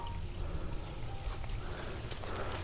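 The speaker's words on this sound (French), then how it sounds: "le petit ruisseau qui tombe en cascade là" A small stream tumbles down a cascade, a steady, soft rushing and splashing of water heard continuously at low level.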